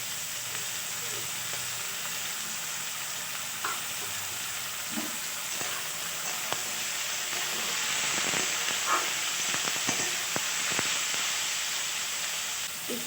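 Chopped beans, carrots and capsicum fry in a pan with a loud, continuous sizzle and hiss. Occasional clicks and scrapes of stirring cut through, and the sizzle swells slightly toward the end, with no talk.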